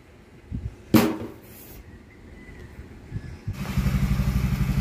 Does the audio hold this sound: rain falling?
no